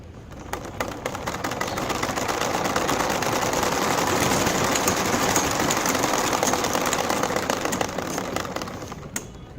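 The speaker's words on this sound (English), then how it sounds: "And I'm going to run this bike." A motorbike engine running to spin a car alternator, a steady, rattling mechanical buzz that swells and then eases off over several seconds, heard close with no talking.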